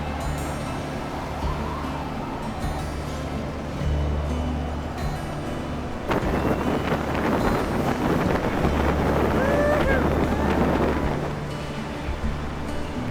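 Wind gusts across snowy English hills, a strong continuous rumbling buffet on the microphone that grows rougher and louder partway through, with faint background sounds.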